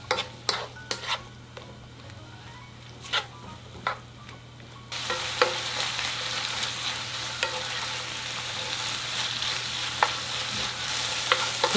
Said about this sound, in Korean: 고기랑 표고버섯도 다 볶아졌어요